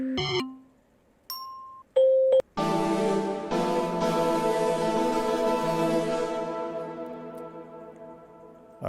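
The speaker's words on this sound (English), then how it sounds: "Let me get a bell sound" Bell preset notes from a Nexus 5 synthesizer: a few short separate tones, then a bright ringing chord with shimmering overtones that sustains and slowly fades, clear and without voices.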